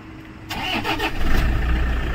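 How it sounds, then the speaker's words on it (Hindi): A Toyota Innova engine cranks with a short starter whirr and catches, settling into a steady, fairly loud idle close by. "और गाड़ी हमारी स्टार्ट हो गई है।"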